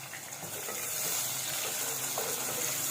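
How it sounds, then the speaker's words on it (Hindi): Chopped onion frying in a pan of hot oil with lightly toasted cumin seeds, a steady close sizzle that holds level throughout without pause. "अब मैं इसके अंदर प्याज ऐड कर रही हूँ और प्याज को मैं फ्राई करूँगी"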